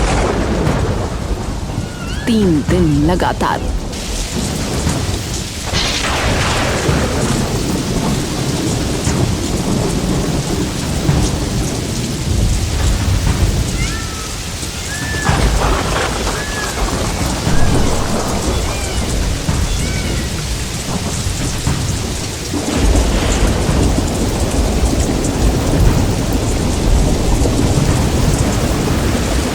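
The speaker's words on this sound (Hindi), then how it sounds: "3 महीने बाद एक दिन बारिश आई। ऐसी बारिश जैसे आसमान फट गया हो।" Heavy rain pours steadily through an animated village story while loud thunder rolls and cracks several times, with the downpour filling the whole scene.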